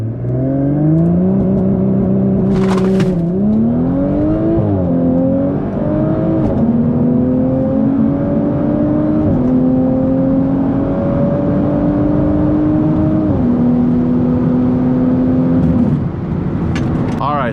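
A car launches hard and accelerates past 100 mph, its engine note climbing steeply through several gears with brief dips at each shift, loud and close from start to finish.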